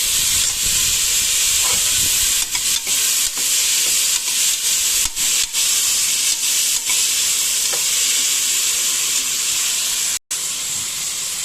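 Steady loud sizzling and hissing of vegetables and tomato frying in a pan, with occasional stirring scrapes, no talking.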